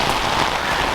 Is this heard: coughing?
no